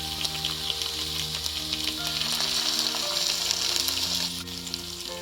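Sizzling tofu stir fry as tomato sauce and chili sauce go into the pan, with a steady, loud frying crackle throughout and a faint background tone running alongside.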